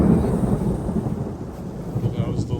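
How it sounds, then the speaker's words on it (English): Thunder rumbles through a thunderstorm outdoors, a loud continuous low roll that holds steady across the moment with rain noise beneath it. "There comes the thunder."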